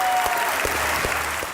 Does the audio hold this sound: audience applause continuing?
yes